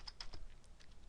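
Quick keystrokes on a computer keyboard while entering a word in Excel 2010, a short run of light clicks, close and fairly quiet.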